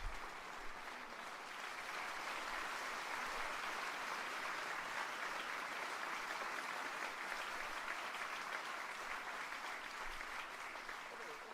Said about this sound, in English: They're clapping at least.